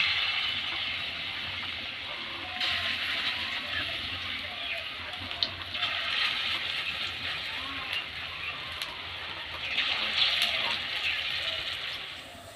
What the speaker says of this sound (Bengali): তেল গরম হয়ে গেছে এবার আমি বড়াগুলো এক এক করে ছেড়ে দেবো